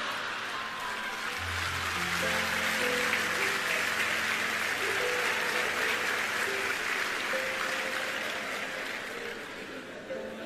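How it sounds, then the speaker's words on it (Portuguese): Audience applause at a live motivational lecture, a steady dense wash of clapping lasting throughout, with steady tones and low hum running underneath. "Estava difícil de você aplaudir"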